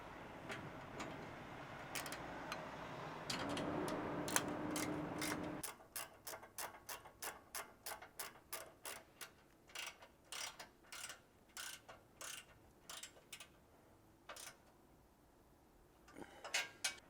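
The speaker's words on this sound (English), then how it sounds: "we're going to go ahead and tighten these front brackets to the skid plate" On a Jeep JL Wrangler skid system, a ratchet tightens the bracket bolts to the skid plate. A steady run of crisp, rapid clicks sounds close up after a brief stretch of louder mechanical noise.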